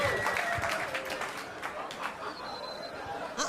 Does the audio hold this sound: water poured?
no